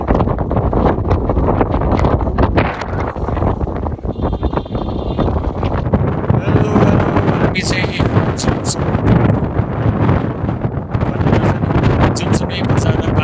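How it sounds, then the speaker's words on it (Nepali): Strong wind buffeting the microphone in the Himalayas near Jomsom, a loud continuous roar with gusty rises, while a person speaks over it briefly. "हेर्नु सक्नुहुन्छ जस्तो हावा आइरहेको छ"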